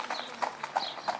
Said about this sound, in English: Now we can watch the horse as it trots